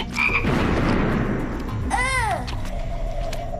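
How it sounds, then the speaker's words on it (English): A toad croaks once in a brief, warbling call partway through, heard over steady outdoor background noise and rustling. "It's another toad, Adam."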